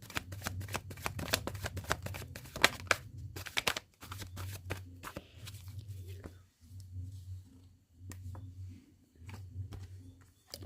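Tarot cards being shuffled for clarifier cards, riffling in dense crisp bursts close by, then pausing and resuming in shorter flurries over a low steady hum.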